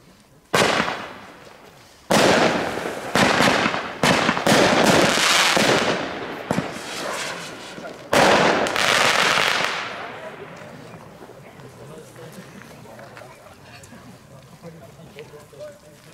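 Five Skybombs single-shot fireworks fired one after another in quick succession outdoors, with loud sharp launches and bursts, each followed by crackling decay, then a long fading tail.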